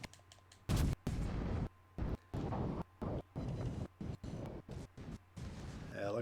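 Warship secondary and main guns fire in World of Warships Legends, heavy booming blasts arriving in irregular bursts of varying length, some long and rolling, others short, loud and close over a constant low engine hum, with faint gaps between.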